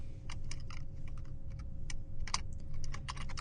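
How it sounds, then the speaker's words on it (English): Fingers type on a computer keyboard in quick, irregular bursts of crisp key clicks, close and fairly quiet, with short pauses between runs of keystrokes. "Type in the word close."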